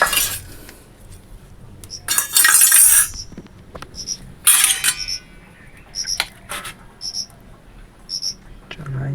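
A spoon clinks against a bowl in a home kitchen, with a couple of louder rattling bursts followed by a series of light, bright taps, close by and over a faint background.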